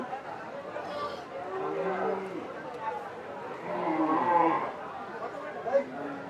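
Low mooing from cattle mixes with people chattering nearby, the calls rising and falling under the voices, at the Nabiganj cattle market in Narayanganj, Bangladesh, ahead of Qurbani 2024.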